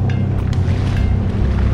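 A Sea-Doo Fish Pro personal watercraft heads offshore in rough, windy conditions, its engine a steady loud rumble mixed with wind buffeting the microphone and water rushing past, with no speech.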